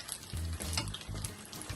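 Saltfish fritters frying in a pan, a soft, low sizzle with muffled bumps and shifting sounds close by.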